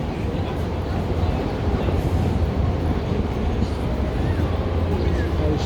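A train rumbles past in downtown Chicago, a steady, dense low roar with a continuous metallic rush that holds for several seconds amid street ambience.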